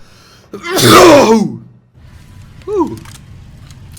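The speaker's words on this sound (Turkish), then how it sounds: "Çok güzel hapşırdım." One loud, explosive sneeze up close, followed after a pause by a short voiced exclamation.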